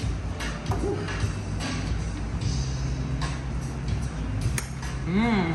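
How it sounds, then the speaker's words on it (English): A spoon works through arroz con gandules, Puerto Rican rice and pigeon peas, in a pot, giving repeated scraping and clinking strokes against the metal under a steady low background hum, with a voice briefly audible. "start mixing this deliciousness"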